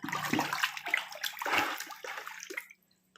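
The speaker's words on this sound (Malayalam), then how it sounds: "ഇത് കുറച്ച് പിണ്ണാക്ക് നമുക്ക് വെള്ളത്തിലിട്ട്, കടലപ്പിണ്ണാക്ക്, അതും കുതിർത്തെടുക്കാം" Peanut oil cake goes into water to soak for vegetable manure, close sloshing and splashing with a few quick swirls and gurgles over about two and a half seconds, then quiet.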